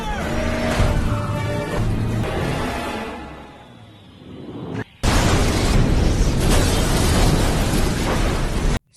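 A black Mercedes crashes into a ravine at the end of a film car chase: loud engine roar and crunching impacts, a brief drop toward quiet, then a sudden dense, sustained crash-like burst filling the rest.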